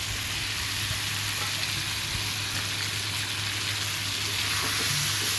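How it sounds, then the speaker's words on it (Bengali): Prawns hitting hot oil in a pan, a steady, close, even sizzle and crackle of frying that holds at one level throughout, with no one talking. "এখন আমি চিংড়ি মাছগুলো দিয়ে দেব"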